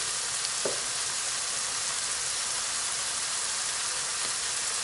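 Garlic cloves frying in a hot pan while squid kokoreç is cooked, giving a dense, continuous crackling sizzle close up, with a couple of faint sharp pops and no talking.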